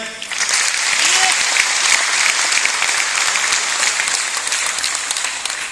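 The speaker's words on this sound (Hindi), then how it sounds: "आप सभी लोगों के स्वागत में भी तालियां हो जाए।" A crowd claps loudly and continuously, a dense sustained round of applause filling the whole stretch.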